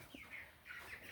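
Meat chickens, young broilers raised for meat, give a few faint soft clucks and chirps, quiet and a little distant, with no one talking.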